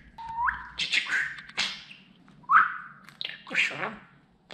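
A pet budgerigar whistles and chirps indoors in a run of rising, bright notes broken by short pauses, close and clear with no talking.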